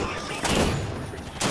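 A battle rifle fires in Halo 5: Guardians, with loud, dense gunfire and explosive rumble filling the short span and a burst near the end.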